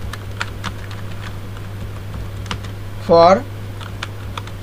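Rapid typing on a computer keyboard while a Google Form description is being entered, a steady run of light clicks under background hum, briefly broken by a short spoken word.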